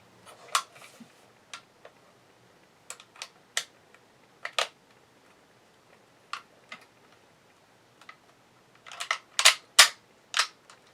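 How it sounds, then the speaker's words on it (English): Loading a Kar98k bolt-action rifle with a stripper clip of rounds: sparse sharp metallic clicks and snaps, close and quiet, scattered irregularly, with a quicker cluster of clacks near the end. "Apparently the bolt doesn't, stripper clips don't want to let go of the bullets."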